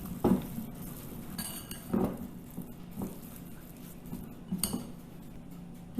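A spoon mixes dry ground spices such as dhania for a baked chicken curry, giving a few distinct metallic clinks and scrapes against the vessel over quiet background hiss.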